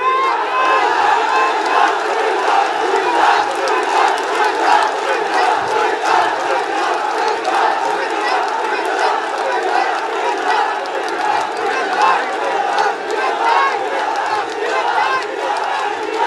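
A large rally crowd chants and shouts slogans demanding Cumilla division, a continuous dense roar of many voices, loud and sustained throughout.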